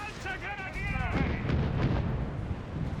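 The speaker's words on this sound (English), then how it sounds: "Artillery fire, smoke being deployed here." Artillery barrage in Company of Heroes 3, booming blasts and rumbling explosions building into a dense, continuous roar behind a voice speaking over the opening second.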